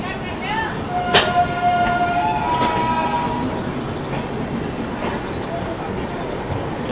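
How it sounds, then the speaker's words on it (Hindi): The Kanpur Shatabdi and Magadh Express run side by side in India, a continuous loud rumble of moving trains with a sharp horn blast near the start and another shorter tone soon after. "ये रही अपनी कानपुर शताब्दी और ये रही अपनी मगध एक्सप्रेस।"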